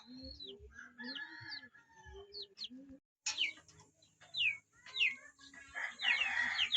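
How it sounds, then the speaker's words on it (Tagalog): A neighbour's chickens cluck and crow outdoors with scattered, moderately distant calls. A brief rooster crow rises among the clucks, and the calls come in irregular bursts with quiet gaps between them. "Ibon pala ng kapitbahay"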